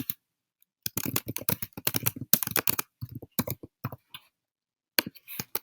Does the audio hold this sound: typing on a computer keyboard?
yes